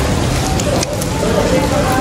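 Heavy stormy rain pours down in a dense, steady roar across the whole stretch, close and loud with no pauses.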